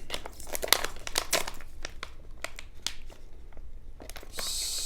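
Plastic packaging for a Die Free Co Kung Fu AR-15/AR-10 rifle grip and plug being torn open and crinkled by hand, a close run of sharp crackles and rustles with short pauses between.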